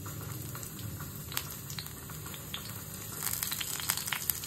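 Green chilies go into a modest amount of hot oil at the start of a fenugreek-leaf dish. A soft, continuous sizzle is broken by scattered crackles and pops that grow busier toward the end.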